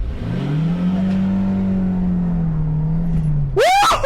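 Renault Twingo accelerating hard from a standing start, a loud, close engine drone that holds steady before a sudden rising whine and sharp high squeal near the end.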